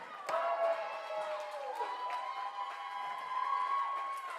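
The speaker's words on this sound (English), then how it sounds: "CHA Flame crowd starting to come alive here" A girls' basketball semifinal crowd comes alive with steady cheering and murmuring in a gym, carrying a few high-pitched tones and sharp noises throughout.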